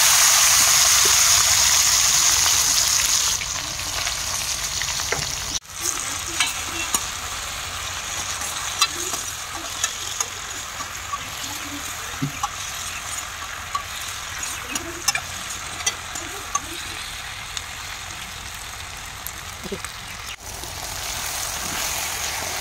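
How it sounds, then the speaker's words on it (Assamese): Kundoli frying in hot oil in a kadai gives a loud, steady, close sizzle with small scattered crackles and pops throughout and no speech. "যিটো কেৰাহীত মই ভাজি আছোঁ"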